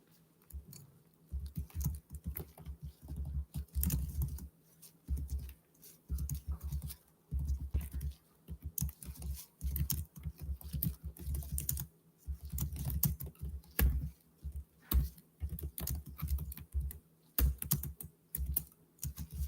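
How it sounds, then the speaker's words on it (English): Quick bursts of typing on a computer keyboard, soft close key clatter in irregular runs with short pauses, continuing for nearly twenty seconds in a quiet room. "Let's go ahead and type a little something in the chat real quick"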